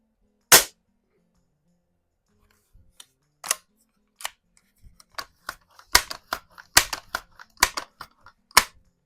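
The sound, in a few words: Crosman Vapor Max air rifle shot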